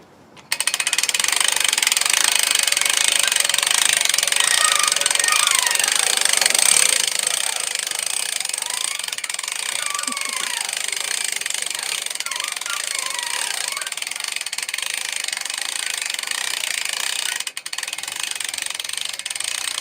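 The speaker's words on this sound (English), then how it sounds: "take a cut and then show how you can plane with a moulder" Logosol moulder planing wood, a loud, steady machine roar with a dense hiss of cutting that starts abruptly and runs continuously, easing slightly partway through.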